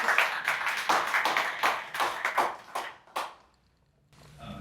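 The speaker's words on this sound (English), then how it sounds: "Give him a round of applause." A small audience at an economic forum gives a brief round of clapping for a visiting senator, a run of close sharp claps that thins into a few isolated ones before falling quiet.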